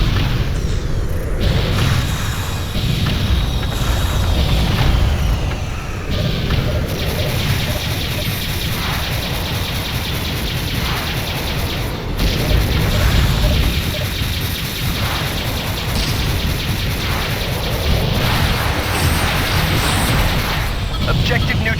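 The Tiamat, a capital ship in the space combat game FreeSpace 2, blows apart in a long, loud, continuous roar of rumbling blasts with repeated surging booms, heavy low end and crackling debris throughout.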